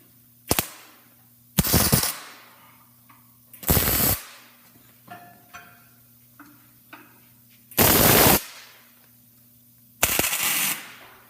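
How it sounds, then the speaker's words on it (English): Short, loud crackling bursts from tack welding a steel stiffener plate onto a tube during a John Deere 2700 flex-till basket installation, about five separate tacks with quieter clicks between them and no talk. "He's going to tack the corners and then weld solid around the tube itself."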